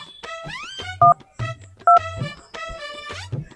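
A phone dials a number as two beeping key tones sound close and loud, set among clear bursts of a music-like background with nobody talking.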